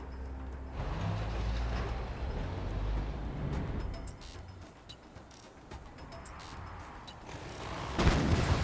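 Predator tanks trading cannon fire in the real-time strategy game Command and Conquer: Kane's Wrath, with dense overlapping booms and mechanical rumble throughout and a sharper burst near the end.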